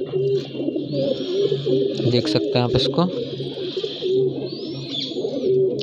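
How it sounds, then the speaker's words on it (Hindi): A pigeon on a rooftop gives repeated soft, throaty coos in a regular rhythm while someone talks over it, with a few faint chirps in the background. "देखिए भाई फिर दाना खा रहा है ये कबूतर"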